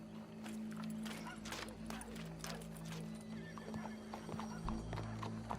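Horse hooves clip-clopping in the Western video game Red Dead Redemption 2, a steady trotting rhythm of hoof clops over a low constant hum, fairly faint and continuous.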